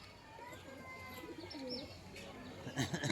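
Domestic pigeons coo softly in a loft, low throaty calls rising and falling close by, mixed with faint chirps and a brief flurry of louder sound near the end.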